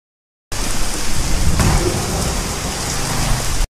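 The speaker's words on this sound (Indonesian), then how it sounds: "saat hujan sedang lebat" Heavy rain pours steadily at night with a thunder rumble, a dense, loud hiss of rain on surfaces that starts abruptly and holds constant for about three seconds before cutting off.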